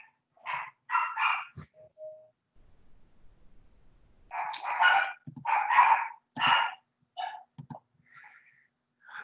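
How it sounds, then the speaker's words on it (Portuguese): Two dogs at home barking in short bursts of sharp, loud barks, with gaps of near silence and a brief whine between volleys. "Elas vão latir um pouco, daí já param."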